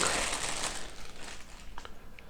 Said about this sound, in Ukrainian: Відкриваємо пакетик.